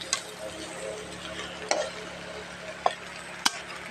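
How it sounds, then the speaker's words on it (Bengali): Crab masala being stirred in a pan, soft scraping and light sizzling with a few sharp clinks of the spoon against the pan at intervals. "নেড়ে দেবো।"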